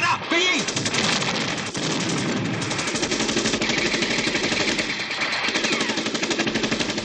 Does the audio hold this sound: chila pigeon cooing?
no